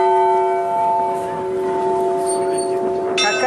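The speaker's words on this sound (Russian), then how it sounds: "Давайте позвоним в колокола." Several large bells ring in a haunted-house attraction. A sustained, resonant tone hangs throughout, and a fresh strike comes near the end.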